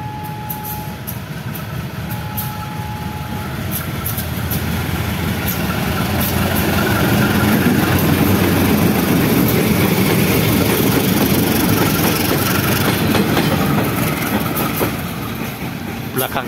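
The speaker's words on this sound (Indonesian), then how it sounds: "sekarang akan menjalani uji coba lintas bersama kereta api Sri Tanjung dari Lempuyangan ke Purwosari" CC 201 diesel locomotive hauling the Sri Tanjung train on a test run from Lempuyangan to Purwosari, its heavy engine rumble swelling steadily louder as it approaches and passes close by, then easing slightly, with faint voices underneath.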